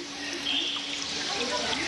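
Water pours steadily at the Tifrit cascades, a continuous broadband rush with a trickling texture that holds at an even level throughout, with no voices over it.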